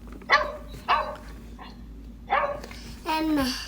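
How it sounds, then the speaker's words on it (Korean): A dog barks in four short, separate bursts spread over a few seconds, the last one drawn out into a whiny yelp. A faint background hum runs between them. "강아지 지금 멍멍"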